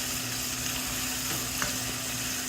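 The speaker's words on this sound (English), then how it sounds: "1 tablespoon of brown sugar. We're going to caramelize this." Brown sugar caramelizing in a hot frying pan gives a steady, soft sizzle that runs evenly throughout, with a faint stir or scrape partway through and no talking.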